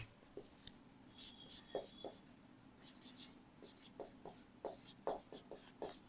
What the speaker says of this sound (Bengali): আজকের আমাদের ক্লাসের বিষয়বস্তুটি আগে লিখে নিই